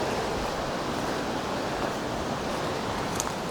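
A steady broadband rush of a waterfall at Mount Hope, West Virginia, constant and unbroken, with no voices.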